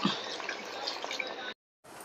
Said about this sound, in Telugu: కొంచెం నీళ్లు పోసేసుకుంటాను చిన్న కప్పుతో